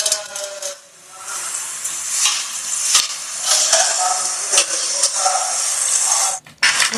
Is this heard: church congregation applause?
no